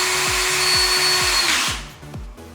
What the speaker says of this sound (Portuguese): como a madeira é mais macia para furar, eu estou usando a parafusadeira para fazer esses furos